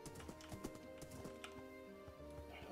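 Horse hooves clip-clopping in the Minecraft video game, a quick irregular run of light close hoofbeats heard alone for nearly three seconds.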